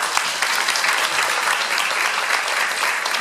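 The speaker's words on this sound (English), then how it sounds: "Obligation to applause." A convention panel audience claps loudly and continuously, dense applause filling the room for several seconds with no talking over it.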